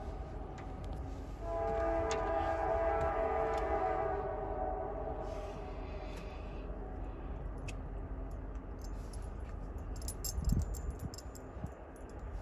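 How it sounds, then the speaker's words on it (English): A train rumbles past a neighborhood at a distance, its low roar building and fading, with a brief horn-like tone near the end; no one speaks. "we have a train coming"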